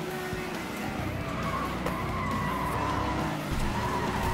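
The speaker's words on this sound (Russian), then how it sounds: "тачки прям как дрифтят" Cars drift and skid in the racing video game FlatOut: Ultimate Carnage, tires squealing in long sustained screeches over a steady loud engine roar throughout.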